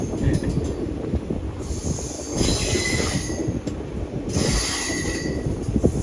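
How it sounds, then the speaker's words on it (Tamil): A goods train engine hauls rolling cars with a loud, steady rumble, metal wheels squealing intermittently over the grinding rail noise, close by, with no voices. "அந்த கூட்ஸ் ட்ரெயினோட இன்ஜின் வந்து இந்த ட்ரெயினை புல் பண்ணுது"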